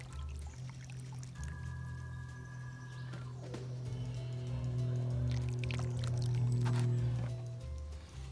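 Liquid is poured into a garden slug trap to flush it out, a soft trickling and splashing over a steady low outdoor hum, close and fairly quiet, swelling in the middle.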